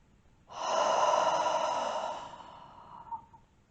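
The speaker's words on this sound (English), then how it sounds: "Let's take a deep breath in through the nose and out the mouth together." One deep, audible breath drawn in through the nose and released through the mouth during prenatal yoga, a close, loud sigh-like exhale lasting a few seconds, heard alone in a quiet room.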